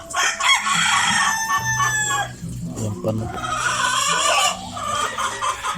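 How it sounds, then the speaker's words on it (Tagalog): Several chickens cluck noisily close by while a rooster crows, with a voice briefly speaking underneath the busy barnyard clamor. "Sa natin linisan ng maingay ang mga manok."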